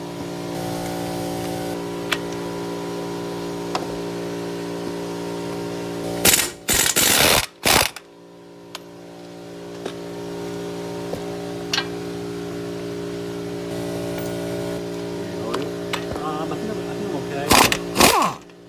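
A Ford F150 engine idles steadily with a front wheel hub grinding fault, a low mechanical drone with faint ticking, broken by a couple of loud clunks and knocks near the middle and end.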